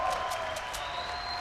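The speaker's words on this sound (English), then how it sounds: "We got a round of applause here" Scattered clapping from an audience at a Fortnite esports grand final at TwitchCon 2018, a short burst of steady applause at moderate distance.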